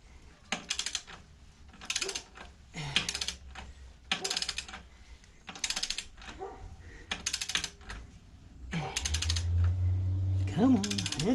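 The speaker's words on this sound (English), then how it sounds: "now we'll switch back to the torque wrench" A torque wrench ratchets on an exhaust clamp of a 2008 Harley Sportster 883C, in short bursts of rapid clicking separated by pauses, close up, followed by a low mechanical hum at the end.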